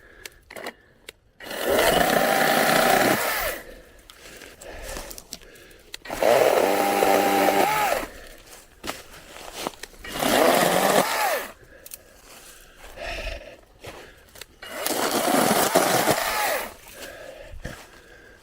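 A 20V battery-powered Wild Badger chainsaw with a 12-inch bar cuts through fallen trees outdoors in four loud bursts of high, buzzing motor whine, each lasting a couple of seconds, separated by quieter pauses with faint handling noise.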